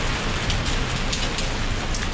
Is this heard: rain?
yes